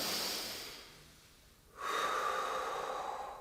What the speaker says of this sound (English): Big deep breaths in. Feel your rib cage expand with each breath.